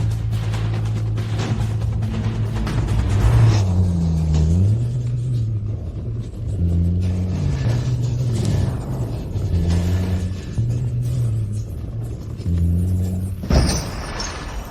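A car engine runs steadily while driving, a deep continuous rumble with wavering tonal hum throughout and a brief louder burst near the end.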